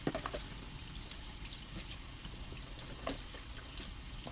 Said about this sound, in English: And then now the Kangen water comes out of here.